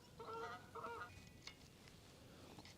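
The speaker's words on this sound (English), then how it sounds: "geese have photobombed me" Geese honking near a carp fishing lake, a short burst of several loud nasal calls close by, then fading into quieter outdoor background.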